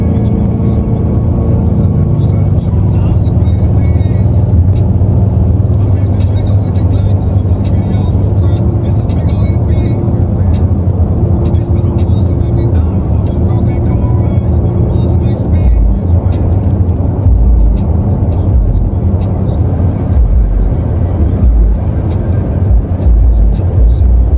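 A Mercedes-AMG driven in Sport Plus mode gives off a steady, loud engine roar with road noise that holds for the whole stretch, close inside the cabin, while a person talks over it throughout.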